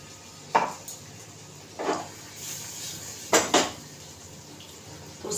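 A steel plate and cooking pot clink in a home kitchen while water rinses the plate's leftover masala for stuffed brinjal (bharli vangi). Four or five distinct metallic knocks and scrapes come close by against quiet background.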